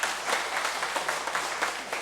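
Congregation in a church clapping together, a brief burst of steady applause with many hands, moderately loud and without speech.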